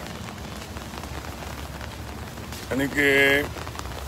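Cold rain falls steadily on the farmers' protest camp at the Delhi border, a constant broadband hiss and patter. A person speaks briefly over it partway through.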